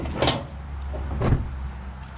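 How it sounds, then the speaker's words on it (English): Car door on a 2010 Nissan Rogue being opened in a garage, two short clunks and rattles about a second apart over a steady low hum, close by. "See how the door opens."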